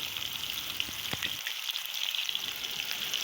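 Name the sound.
frying ground masala in oil in a kadhai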